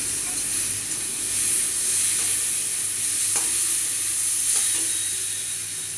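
Vegetables frying in a pan as their saved boiling water goes in, giving a steady, bright hiss of sizzling throughout with a few faint scrapes and no speech.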